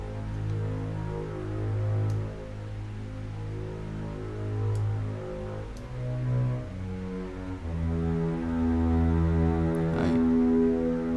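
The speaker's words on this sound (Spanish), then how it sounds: "para que así podamos simular que tenemos más cerca el contrabajo que los violines" An orchestral mix with light reverb places the double bass closer than the violins. Low sustained string chords change slowly and continue for several seconds with no speech.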